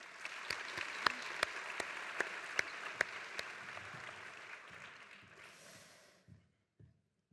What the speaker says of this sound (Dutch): Geef haar ook een warm applaus.